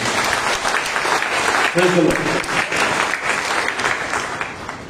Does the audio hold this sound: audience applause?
yes